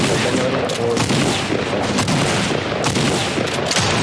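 Dense, continuous gunfire in the video game Fortnite, rapid overlapping shots and bursts that stay loud and close, with no breaks for the full few seconds.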